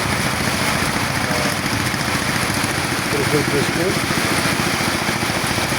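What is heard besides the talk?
boat engine running on the Teesta river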